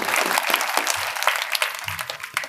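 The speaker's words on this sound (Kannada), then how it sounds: "ಜೋರಾಗಿ ಚಪ್ಪಾಳೆ ತಪ್ಪದ ಮುಖಾಂತರ ಸ್ವಾಗತವನ್ನು ಕೋರ್ಕೊಳ್ಳೋಣ." An audience claps to welcome a speaker at a religious discourse, giving steady, moderately loud applause with a crackling texture and no voices over it.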